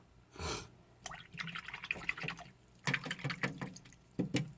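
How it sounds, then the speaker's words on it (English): A paintbrush is rinsed in a small cup of water, giving a soft wet swish followed by a quick run of faint clinks, splashes and drips, close up and quiet, with no voices. "So now I wash my brush off"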